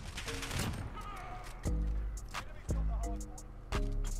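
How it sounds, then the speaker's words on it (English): A shotgun-style sniper rifle fires in a video game, four heavy, evenly spaced booming shots roughly a second apart, each with a ringing tail over a light background rumble. "So that is the shotgun sniper."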